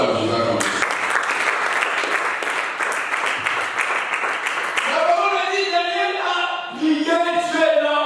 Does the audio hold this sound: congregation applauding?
yes